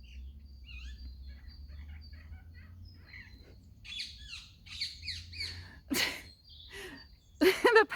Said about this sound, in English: parrots are really distracting me.